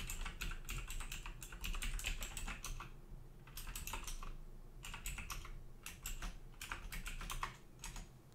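Bursts of keystrokes from a computer keyboard as a command is typed into a terminal, close and crisp, with rapid clusters of clicks separated by brief pauses and no talking.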